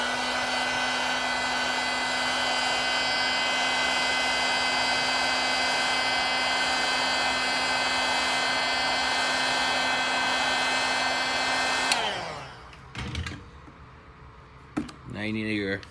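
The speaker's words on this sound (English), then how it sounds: "Get a heat gun or a blow dryer, hair dryer, and then heat up the bottom and maybe the top" A hair dryer blows loudly and steadily while heating an iPhone 6S for a battery replacement, then switches off near the end, leaving brief tapping and handling sounds.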